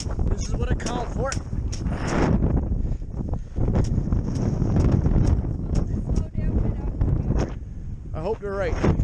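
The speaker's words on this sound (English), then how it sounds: "I said we're getting some wind." Strong wind buffets the microphone in long, loud gusts out on a lake, on a fishing boat, with some faint knocks and rustles but no clear talk.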